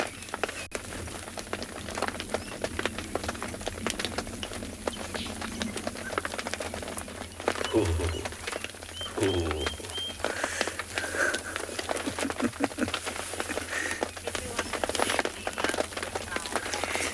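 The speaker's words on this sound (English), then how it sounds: "the sound of the rain on the little roof here" Rain patters steadily on a small roof at a safari lodge, dense light ticks throughout, with people talking quietly at times over it.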